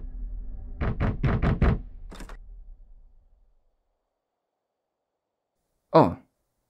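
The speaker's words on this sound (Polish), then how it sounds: "Ktoś puka do drzwi." In a horror video game, four or five sharp knocks on a door come in a quick close cluster, then one more, followed by a long silence and a brief low thud or breath near the end.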